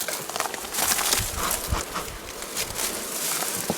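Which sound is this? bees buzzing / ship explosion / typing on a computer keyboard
bees buzzing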